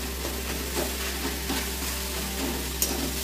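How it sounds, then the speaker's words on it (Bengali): Grated carrot frying in ghee for carrot halwa, stirred in a pan with a steady soft sizzle and occasional scraping strokes, close and fairly quiet, with no talking. "ওই জন্য ঘিয়ে ভালো করে ভেজে নিতে হবে বন্ধুরা"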